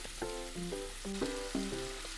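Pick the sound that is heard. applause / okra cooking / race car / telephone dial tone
okra cooking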